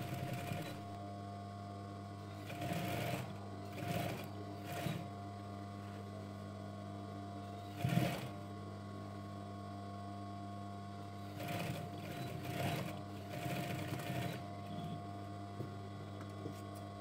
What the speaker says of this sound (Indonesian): ini ujungnya tadi dibuka, nanti kita jahit kembali ya.